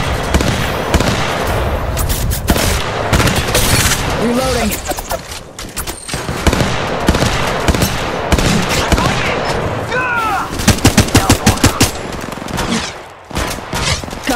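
Apex Legends gunfire, dense bursts of rapid automatic shots with brief pauses between strings, loud and close, mixed with game sound effects and a voice speaking at times.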